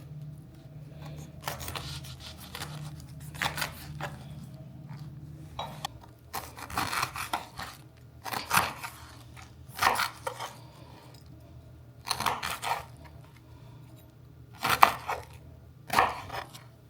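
A ripe pineapple, already half eaten, is sliced with a knife in a home kitchen: a series of sharp cuts and knocks against the board, spaced irregularly over a faint low hum, with no talking.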